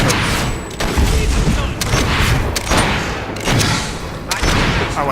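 Mortar blasts and rapid gunfire from a Fable 3 battle, dense and continuous, with booming explosions and crackling shots layered over each other throughout.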